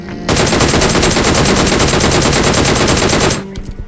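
Rapid automatic gunfire from a battle royale video game, a dense, loud continuous burst of shots lasting about three seconds before cutting off into quieter game ambience.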